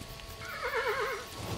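Horse in the video game Kingdom neighs once, a clear wavering whinny rising and falling over about a second, fairly close over a soft game background with no talking.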